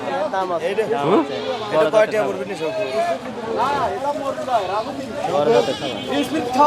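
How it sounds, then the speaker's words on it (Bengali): Small young goats of the Jamunapari breed bleat repeatedly at a livestock sale, their calls mixed with steady chatter from people talking nearby. "এই ছোট ছোট ছাগল ষোলো হাজার টাকা"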